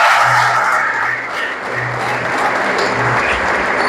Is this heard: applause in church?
yes